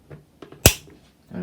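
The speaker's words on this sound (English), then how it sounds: "They have the same style of tilt adjustment, except just on a different side. Like they click." A 1980s Micromark 12-inch desk fan's tilt adjustment gives one sharp, close click, with a few softer handling taps and rustles around it.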